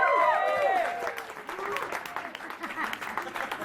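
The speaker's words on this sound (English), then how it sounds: "I think they deserve a round of applause." An audience claps at a live Q&A event in a record shop, a scattered round of applause that rises at the start and then thins into irregular claps while a voice speaks over the beginning.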